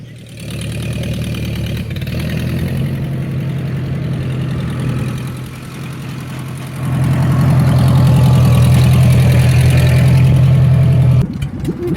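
A restored $200 tractor's engine runs steadily at low throttle while being driven to park, a deep, throbbing drone that grows louder and fuller after the midpoint before cutting off abruptly near the end.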